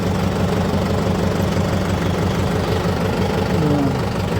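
A tractor engine runs steadily at a low, even throb, close and unbroken for several seconds with no voices.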